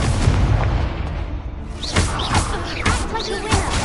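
Expulso spell explosions in Hogwarts Legacy, a series of loud, close booms and bursts in quick succession with a short lull in the middle, accompanied by sharp magical whooshing accents.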